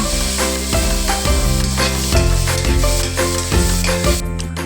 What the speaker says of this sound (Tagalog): Sa mainit na kawali ay magigisa tayo ng sibuyas at bawang.